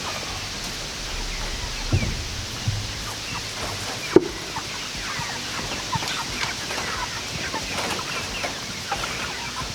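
Chickens cluck softly and steadily in the background, a scattered, continuous murmur of low calls with an occasional louder note.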